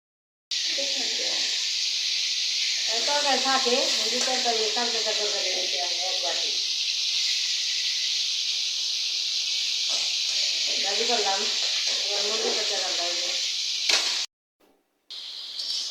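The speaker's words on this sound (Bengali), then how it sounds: "দেখে নিয়েছেন মাছগুলা কিন্তু ভাজা শেষ" Fish fry in a pan with a loud, continuous oily hiss that runs almost unbroken, while someone talks over it in stretches, before the sizzle cuts off near the end.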